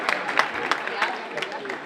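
An audience at a high school senior awards and scholarships ceremony claps briefly, a scattered patter of hands with speech-like sound mixed in.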